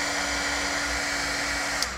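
A hair dryer blowing over alcohol inks on Yupo paper, a steady close whooshing roar with a constant motor hum, running alone and unbroken until it begins to fade at the very end.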